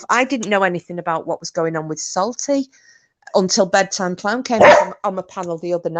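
A dog barks a few times in the background while a person keeps talking over it in the foreground.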